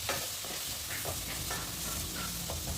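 Prawn masala with garam masala in a frying pan, a close, quiet sizzle with repeated scraping stirs of a spoon through the thick mixture, no voices.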